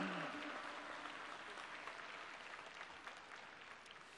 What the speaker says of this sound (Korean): 다시 한번 큰 박수를 올리면서 착석해 주시기 바랍니다